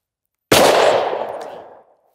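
A single sharp 9mm pistol shot, fired through a Tyrant Designs Uni-Comp compensator, cracks loudly and close after a moment of silence, then its echo fades over about a second.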